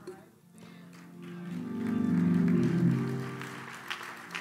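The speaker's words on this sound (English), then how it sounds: "Now hold the applause, I ain't done." Applause swelling from a church congregation during a sermon, building to a broad peak and fading, with voices and murmurs mixed into the clapping.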